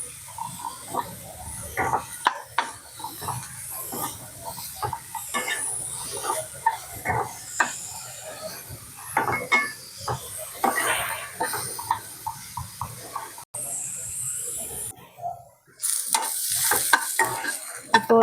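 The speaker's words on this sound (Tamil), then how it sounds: "அதையும் நல்லா வந்து இந்த எண்ணெயிலே வதக்கிடுங்க. நல்லா வதங்கட்டும்." Radish sautéing in oil in a pan, with a loud, close crackling sizzle and repeated scraping stirs in an uneven rhythm, plus a brief hissing burst near the end.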